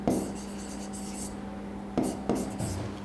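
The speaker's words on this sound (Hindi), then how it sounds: "शॉर्ट फॉर्म लिखते हैं" Chalk or marker strokes scratch across a board in short bursts while a teacher explains angles, with quiet gaps between the writing strokes and a faint hum underneath.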